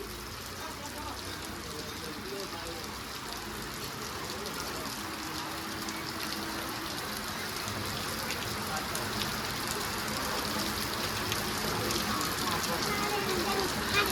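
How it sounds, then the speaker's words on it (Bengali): Steady rain falls on a flooded road, a dense, even hiss of drops that grows slightly louder over the stretch, with no clear voices over it. "প্রায় 1 সপ্তাহ ধরে কিন্তু বৃষ্টি পড়তে আছে"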